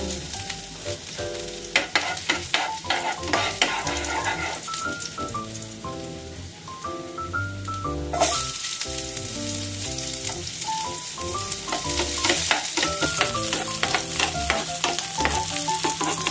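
Food frying in a pan gives a constant hissing sizzle throughout, with melodic music playing over it.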